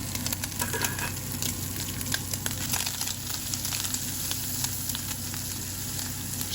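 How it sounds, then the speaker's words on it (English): Meat fries in a frying pan with a steady, dense sizzle and crackle, close and continuous over a low kitchen hum, with brief scraping or stirring clicks and no talk. "Shake the frying pan so that the meat can brown nicely on all sides."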